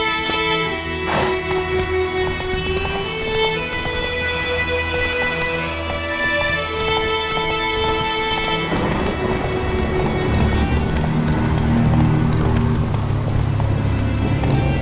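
Roach, a horse in the game The Witcher 3, gallops with steady rhythmic hoofbeats against falling rain and rumbling thunder, while musical tones fade out partway through.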